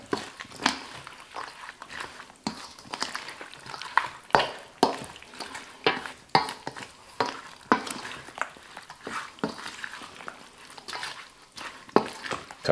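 Tomato bean bread salad being mixed, close, wet squelching and clicking stirs in an uneven rhythm, moist ingredients tossed together at moderate volume.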